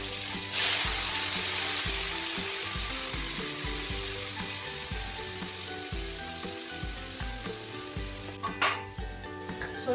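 Mustard water poured into a pan of already fried fish sets off a steady loud sizzle with bubbling, while tonal music and faint clinks run beneath it throughout.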